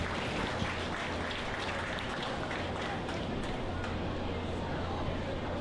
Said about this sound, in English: Give these exhibitors a nice round of applause on a good set of Barrows